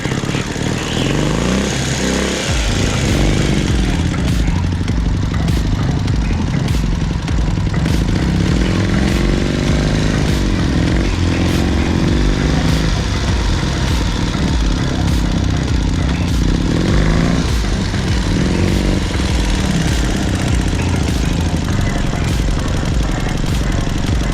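Dnepr MT motorcycle engine revving hard and churning as it digs into loose sand in a forest, a loud continuous throaty roar with repeated surges in pitch throughout.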